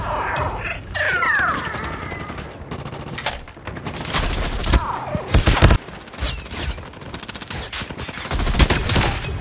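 Rapid gunfire bursts from Call of Duty Mobile in the Big Head Blizzard snowman mode, loud, close shots in clustered volleys alongside mechanical weapon clicks and reload rattles.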